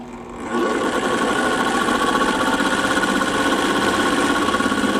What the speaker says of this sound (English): we can give this a stitch test